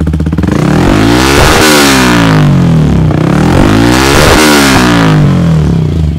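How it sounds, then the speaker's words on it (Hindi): A Yamaha R15 V4 motorcycle fitted with a full system exhaust revs loudly up close, its engine note climbing and falling in two long throttle sweeps over a rough, crackling drone, with no talking. "और अब देता हूँ आपको थ्रोटल, फिर सुनाता हूँ थ्रोटल पर साउंड कैसी आती है।"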